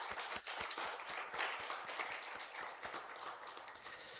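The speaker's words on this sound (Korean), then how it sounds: "우리 또 힘내시라고 격려의 박수로 한번 격려하도록 하겠습니다" A church congregation claps in encouragement during a Sunday morning service, a steady crowd of hands with sharp individual claps standing out, sustained throughout.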